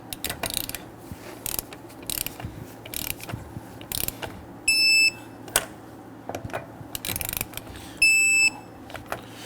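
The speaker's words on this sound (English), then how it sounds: "Now let's go ahead and torque down our lug nuts to 100 foot-pounds." A torque wrench tightens the lug nuts on a 2010–2019 Ford Taurus to 100 foot-pounds, sharp close ratcheting clicks in bursts with two short electronic beeping tones between them.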